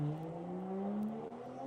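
A Toyota A90 Supra drag car launches down the strip, its engine note climbing steadily in a loud, close, continuous acceleration with a brief dip near the end.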